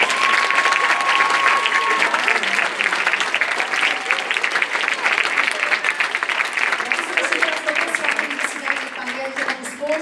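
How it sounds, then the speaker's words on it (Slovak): Loud, sustained audience applause fills the whole stretch, dense steady clapping from a crowd at a children's event awards ceremony, with faint voices and a few cheers mixed in beneath it. "Jeden veľký potlesk."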